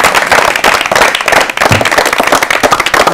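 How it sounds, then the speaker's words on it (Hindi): A quiz show audience bursts into dense, loud, continuous applause for a winning contestant, the clapping filling the whole stretch. "इनके लिए ताली बजाइए आप लोग।"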